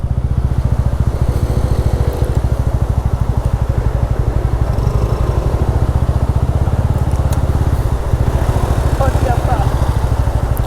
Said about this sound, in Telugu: మధు బైక్ అయితే ఈజీగానే వెళ్ళిపోద్దులేండి.